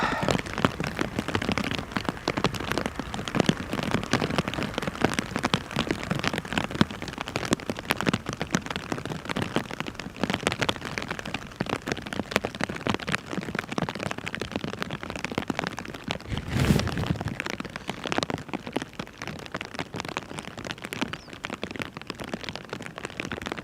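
Rain shower at Schiphol airport, a continuous crackling patter of drops on surfaces at an even level, with one brief low thud partway through.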